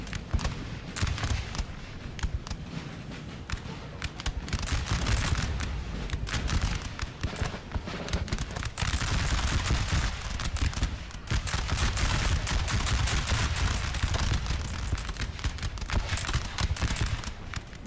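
Massed musket volleys crackle continuously through a Napoleon Total War battle, dense overlapping shots rolling on without pause, loud and sustained like distant and near fusillades layered together.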